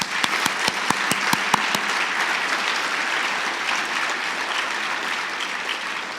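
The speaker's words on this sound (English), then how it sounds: "Let's give them a round of applause, please." Gala audience in a banquet hall giving a round of applause, a few sharp individual claps at first, then dense even clapping from many hands that carries on steadily at moderate loudness.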